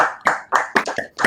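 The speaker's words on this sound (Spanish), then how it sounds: "sí, aplaudamos." A small audience applauds after a thesis defense, giving about five sparse, distinct claps in an uneven rhythm, close and fairly loud, with no voices.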